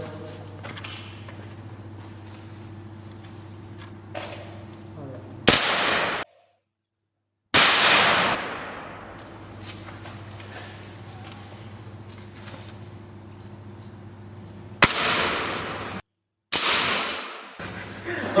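Airsoft guns fire in sharp single cracks, each loud and near and followed by a brief ringing tail, over a steady low hum with short silent gaps.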